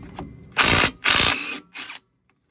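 An impact wrench hammers at ball joint bolts on a Ford Excursion suspension knuckle, three loud, close rattling bursts separated by short pauses, then silence.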